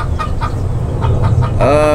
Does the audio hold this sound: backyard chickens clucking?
yes